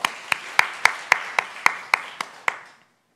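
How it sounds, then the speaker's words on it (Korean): A church congregation clapping together in rhythm as a blessing after a prayer, about nine sharp, evenly spaced unison claps that fade out, with no talk over them. "축복의 박수 하도록 하겠습니다"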